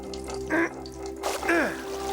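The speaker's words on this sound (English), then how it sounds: "The water's starting to come through." Water starts gushing through a hole being dug by hand in an animated adventure scene, with splashy trickling and faucet-like running water in two short bursts at moderate loudness.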